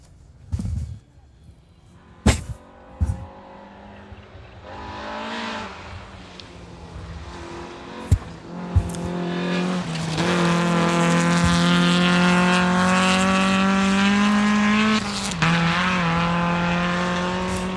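A Toyota Celica rally car on a gravel sprint stage approaches with a rising engine note, then roars loudly past at close range, revving hard through the gears and holding a strong, steady howl toward the end, with a few sharp knocks early on.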